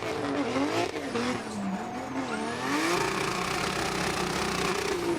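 A race car at Irwindale Speedway roars steadily under full throttle, its engine note sweeping up and down as it circles the track, loud and continuous with no talk over it.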